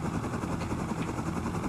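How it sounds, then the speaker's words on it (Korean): A helicopter flies overhead in the video game Rust, a steady low rotor thrum with a faint rhythmic chop, moderately quiet and continuous. "헬기 소리."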